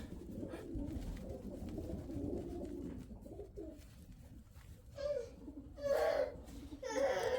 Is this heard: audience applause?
no